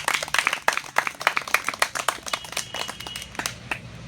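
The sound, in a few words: audience clapping to welcome a guest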